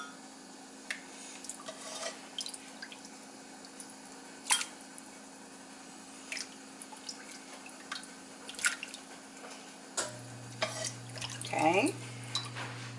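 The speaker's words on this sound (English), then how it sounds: "now I'm going to add my soup to each of the bowls right over the bread" French onion soup is ladled into bowls over bread, giving soft, quiet drips and splashes with a few light clinks of the ladle against the bowls, spaced unevenly over a low steady hum.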